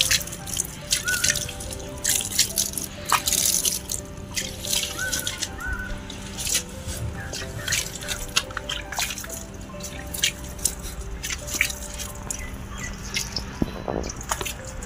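Water sprinkled over newly transplanted tomato seedlings in a pot on a terrace garden, heard as steady patters and drips on leaves and soil, with occasional louder splashes and no talking.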